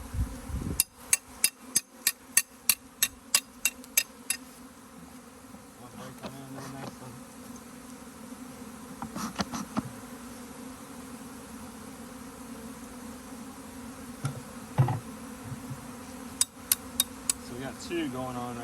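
Honey bees swarming from farm hives fill the air with a steady, close buzzing drone, broken early on by a quick run of sharp rhythmic taps.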